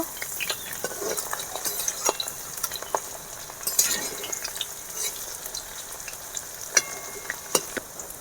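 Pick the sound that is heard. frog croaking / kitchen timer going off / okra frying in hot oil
okra frying in hot oil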